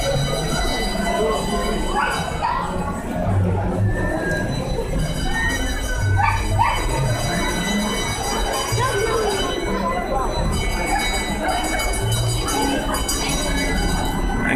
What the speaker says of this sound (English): in the plaza in a little train that could take us on a tour